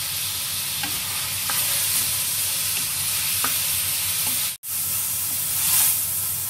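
Chopped tomatoes fry in a pan for daal gosht, giving a steady, loud sizzle with a brief stirring scrape or two and one short break partway through, and no voices.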